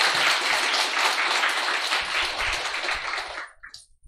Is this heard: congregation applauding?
yes